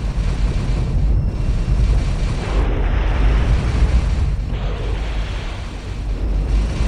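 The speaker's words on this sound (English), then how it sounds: "Fire all forward railguns, armed missiles" Railguns and missiles firing from warships in the space strategy game Homeworld 2, a heavy rumbling roar of booms and blasts that stays loud and continuous without speech.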